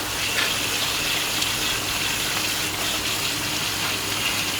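Water sprays hard and steady while a ductless mini split unit is cleaned of degreaser and stuck-on pollen, a loud, continuous hiss and gush with no pause.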